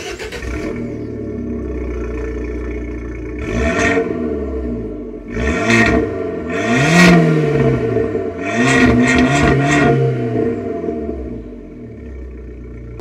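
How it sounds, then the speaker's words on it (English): An Abarth 595 with a 1.4 turbocharged T-Jet engine idles steadily, then is blipped through several sharp revs with a raspy exhaust bark, loud and close, settling back to idle. "still produces a really interesting little bark and can easily be upgraded to the superior exhaust systems of the higher models"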